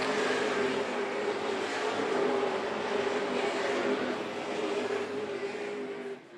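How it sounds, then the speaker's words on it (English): Super late model stock cars race on a paved speedway, a steady loud roar of several engines running together at full throttle with no break, no talk over it. "Lonnie Somerville In car number 23, right along the 0-3, they are having at it there."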